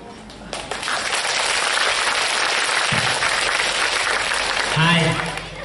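An audience of secondary-school students claps together in a career-guidance session, a dense, sustained burst of applause lasting about five seconds and swelling near the end.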